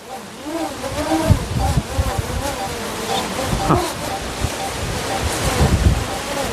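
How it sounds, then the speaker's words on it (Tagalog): Strong wind buffets the microphone in loud, rumbling gusts on Mt. Makiling near Sto. Tomas, Batangas, with surf and water sloshing nearby and people talking over it. "Pagka-lakas-lakas naman ng hangin."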